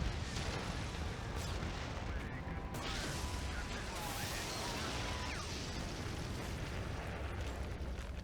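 A tank in the video game Prototype blasts a target, setting off a heavy, rumbling explosion that roars on continuously, loud and broad, with crackling debris over it and some voices underneath.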